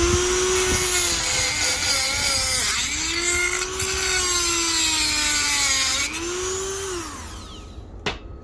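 Reciprocating saw blade mounted on a Leatherman Wave multitool cutting through metal, a harsh continuous rasping grind with rising and falling pitch across strokes, loud and close, ending in a brief clatter.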